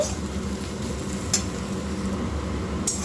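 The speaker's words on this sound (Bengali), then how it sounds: "রসুনটাও খুব ভালোভাবে মিশিয়ে ভেজে নেব" Onion and garlic fry in a pan with a dense, even sizzle, while a couple of faint spoon scrapes mark the stirring; close and steady, with no talking.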